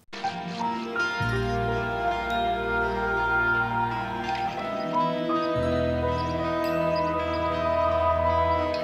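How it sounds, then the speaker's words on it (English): Sustained chords from two pianos wash in a swelling, reversed and chopped reverb, the smeared tails blooming into each new chord in a continuous, shimmering haze. "I have 2 pianos being sent to a reverb, which I reversed, chopped up"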